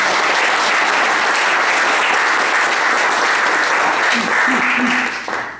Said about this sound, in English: please join me in a round of applause to thank them